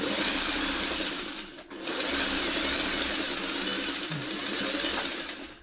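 A sewing machine joins quilt pieces together with a steady, continuous mechanical whir, loud and close, briefly pausing near the start before running on without talk.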